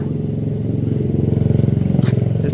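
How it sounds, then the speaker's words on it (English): A motorcycle engine runs with the choke on, idling rich and rough before revving up in a steady pulsing throb, loud and close with a clattery edge and no talk. "I bet if I take the choke off now, it revs a bit better."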